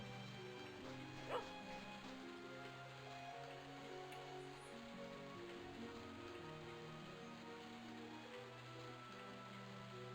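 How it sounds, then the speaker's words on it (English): A single faint dog bark pops out once early over a quiet ambient backdrop in the video game Daggerfall Unity, with low droning tones underneath and no speech. "Thought I heard a dog."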